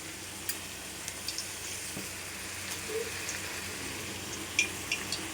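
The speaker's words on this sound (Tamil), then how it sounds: "அடுத்து கேரட்டு, பீன்ஸு, பீட்ரூட் 3 சேர்த்து பொரியல் தேங்காய் போட்டு பொரிச்சிருக்கேன்" Carrot, beans and beetroot poriyal with coconut frying in a pan, a soft continuous sizzle with light stirring taps and scrapes, no speech.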